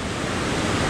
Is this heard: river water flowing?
yes